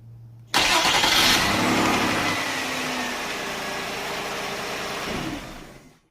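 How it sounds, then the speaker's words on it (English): An Infiniti I30 or Nissan Maxima engine cranks on a newly replaced starter and catches abruptly, then settles into a steady idle that fades out near the end. "we're going to go ahead and turn on the car to see if it's turning on."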